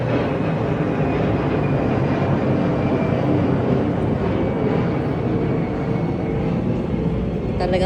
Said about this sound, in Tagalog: Talagang finokus ko yung aeroplano palyata.